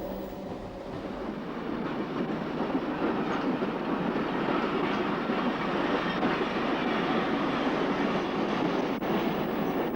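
A DR class 50.35 steam locomotive hauling the D 649 express arrives at a Harz station in the 1980s, its wagons rolling past in a steady, loud, close rumble with rhythmic wheel clatter and no voices.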